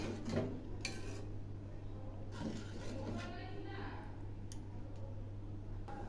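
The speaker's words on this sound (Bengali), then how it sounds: "আর একটু জল দিচ্ছি, আবার একটু নেড়ে দিচ্ছি।" Katla fish head curry is stirred in a pan after a little water is added, with irregular metallic clinks and scrapes of the spoon over a low steady hum, fairly quiet throughout.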